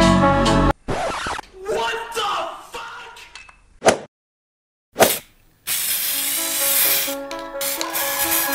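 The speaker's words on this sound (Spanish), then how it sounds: "Tengan mucho cuidado con el spray, es bastante fuerte." Spray paint hissing from an aerosol can onto an iPad Pro tablet outdoors, in several loud bursts separated by short pauses, with a long steady spray at the end.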